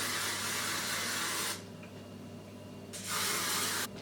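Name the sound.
hairspray being sprayed on curled hair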